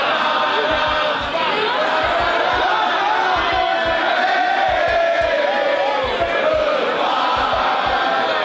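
A wrestling arena crowd chants a rhythmic song at an injured Dana Brooke during her match with Cora Jade, a loud, dense roar of voices with steady clapping beats throughout.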